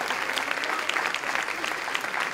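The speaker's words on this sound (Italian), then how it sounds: "un applauso per Riccardo e Antonino" A theatre audience at a local theatre company's comedy performance applauds the actors Riccardo and Antonino, a dense, steady burst of clapping from the whole house, fairly loud and uninterrupted by speech.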